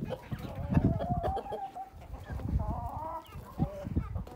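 A village hen clucks in short, irregular bursts at close range, fairly quiet, with faint rustling and background farmyard noise and no talking.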